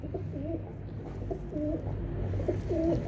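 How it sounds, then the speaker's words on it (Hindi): Soft, low pigeon coos repeat in a slow rhythm, three rolling phrases close by over a steady low background hum. "ये देखें कबूतर जो है"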